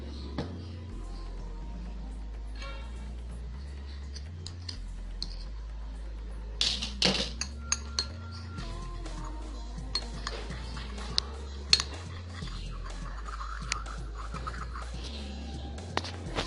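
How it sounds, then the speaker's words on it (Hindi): A spoon stirs lemon juice and honey into a paste in a bowl, giving scattered light clinks and scrapes that grow busier in the second half, with no talking. "और इसमें 1 टेबल स्पून जाएगा हनी। अब इसको अच्छे से आप मिक्स कर लें।"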